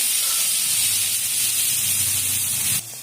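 Carrots dropped into hot oil in a wok, for a spring roll filling, set off a loud, dense hissing sizzle that holds steady for a few seconds, then cuts down abruptly near the end.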